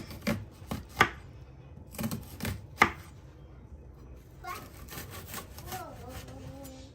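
A knife dices onions on a cutting board in a home kitchen, a run of sharp close chops in uneven bursts, followed by softer scraping and faint background voice.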